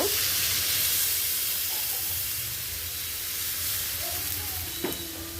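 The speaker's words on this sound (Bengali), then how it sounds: "তো এর পর্যায়ে হচ্ছে একটু পানি দিয়ে দিব" A splash of water hits a pan of vegetables frying with green chillies, setting off a loud, steady steaming sizzle and hiss that fills the whole stretch, with a faint clink near the end.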